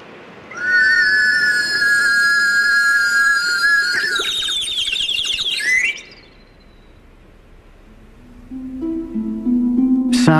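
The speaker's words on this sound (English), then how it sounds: "a cup attached to a warbling whistle being lowered into a tank of water" Bright warbling whistles trill and chirp like birdsong for several seconds, sliding and wavering, then fade to quiet before a lower buzzing tone rises near the end; a cup with a whistle lowered into a water tank.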